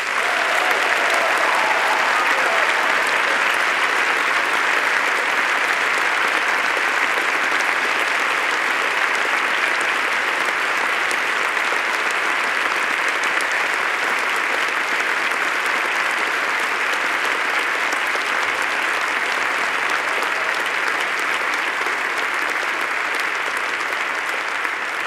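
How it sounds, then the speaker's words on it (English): At an engineering faculty graduation ceremony, a large audience gives families and friends a sustained round of applause. The dense, steady clapping fills a big hall and carries on unbroken for the whole stretch. "please lift the roof off with another round of applause for all your family and friends"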